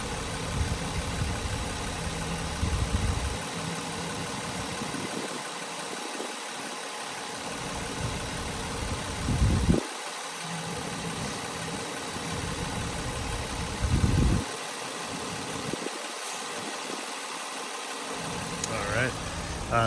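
A 2003 Nissan Murano SL AWD with about 146,000 miles idles steadily with the hood open, a continuous low engine hum heard from close by at even loudness.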